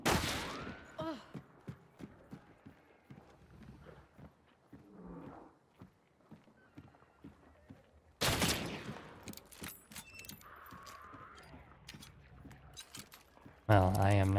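Gunfire in the video game Hunt: Showdown comes as a few sharp, loud bursts separated by quieter stretches of footsteps and clinking, with a voice talking in between.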